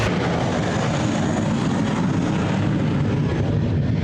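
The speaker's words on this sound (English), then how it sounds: "British Airways plane has just taken off" A British Airways plane taking off at Gibraltar airport gives a steady, loud, close engine roar that holds evenly throughout.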